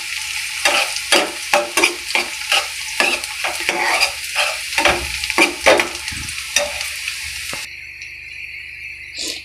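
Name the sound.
onion paste frying and being stirred in a pan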